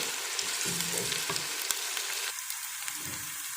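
Chopped onions frying in oil in a pan for chicken and potato shorba, a close steady sizzle with crackles and a few soft stirring scrapes, no talk.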